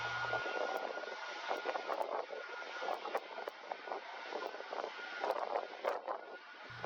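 A British Airways Boeing 747 taxis to the gate at Phoenix, heard as a steady, muffled engine roar with rumbling and occasional clicks. It is moderately loud and continuous, with no speech.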